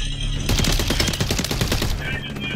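Rapid automatic gunfire in a shooter video game, a loud close stream of repeated shots in quick rhythm after a brief lead-in, with a voice talking faintly underneath.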